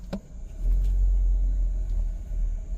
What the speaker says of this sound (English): And there you have it, we are reversing.